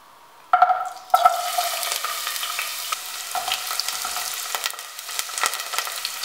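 Ginger, garlic and green chili drop into hot sesame oil in a kadai for a star fruit pickle, bursting into a loud sizzle near 0.5 and 1.1 s, then settling into a steady, close frying hiss with small crackles.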